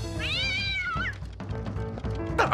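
Cats meow in a hotel kitchen in an animated series: one long, drawn-out wavering meow followed by shorter cat cries and a thump, loud and close.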